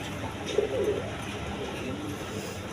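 Domestic pigeons, a pair of red-and-white Rajgolla birds kept for breeding, give a soft brief low coo near the start against steady background noise, with no voices.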